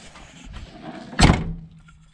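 Door of an old scrapyard car, its interior in good shape, pulled shut with a single loud, close thunk, preceded by quieter handling noise and followed by a fading rattle.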